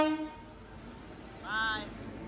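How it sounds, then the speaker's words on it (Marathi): A Kerala Express passenger train pulls into a station and sounds its horn, a brief, fairly faint pair of tonal toots heard over steady platform rumble. "सो गाईज आमची ट्रेन आली आहे केरला एक्सप्रेस."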